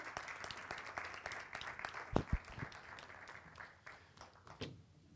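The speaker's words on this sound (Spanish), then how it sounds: "qué gusto da volver a escuchar eh, aplausos aquí en directo" Live audience applause closes a lecture on the right to starlight. Scattered, fairly quiet clapping with distinct individual claps, a couple of louder thumps midway, and a tapering finish.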